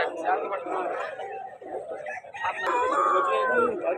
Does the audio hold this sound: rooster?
yes